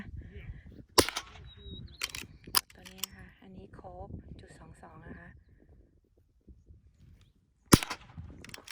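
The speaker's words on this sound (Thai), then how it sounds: "ตัวที่เพื่อนๆเห็นยิงอยู่ ได้ยินเสียงยิงอยู่นี่คือ ปืนปืนยาวจุดสองสองนะคะ" Sharp .22 caliber rifle shots at a shooting practice range, a few loud cracks spaced out over several seconds, one more near the end, with someone talking quietly between them.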